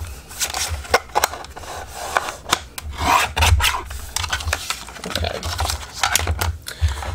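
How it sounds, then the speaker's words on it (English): A small mini paper guillotine slices a strip off a sheet of paper, giving close, dry scraping and rasping strokes in short repeated bursts with brief pauses, no talking. "I'm going to use my little mini guillotine to cut that strip off as well."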